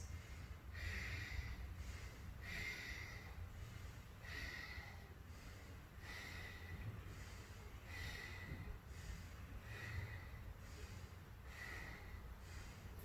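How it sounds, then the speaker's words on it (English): Deep belly breathing during a yoga session, slow rhythmic breaths repeating roughly every one and a half seconds, soft and faint against a quiet background. "Breathe into it. And then again, deep belly breaths."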